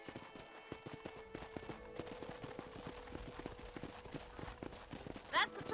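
Horse hooves clip-clop in an even, steady rhythm in the Western video game Red Dead Redemption, close and continuous throughout, over a low background hum with a brief brighter accent near the end.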